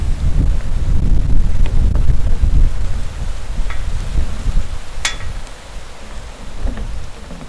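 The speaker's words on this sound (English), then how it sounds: "Now the wind's blowing like crazy." Wind gusts roar and buffet outdoors in a steady, heavy rush, loud throughout with rumbling low turbulence and a few faint ticks and rustles mixed in.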